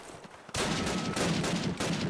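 Gunfire in the video game Call of Duty: after a half-second of quieter noise, a loud, rapid burst of automatic fire sets in and keeps going with a brief break, close and without talk.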